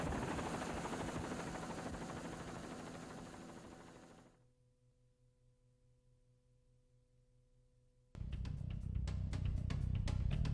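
A military combat helicopter drones with a loud, steady rotor and turbine roar that fades after four seconds into near silence with a low hum, then returns abruptly with rapid rotor chopping.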